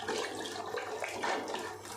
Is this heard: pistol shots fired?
no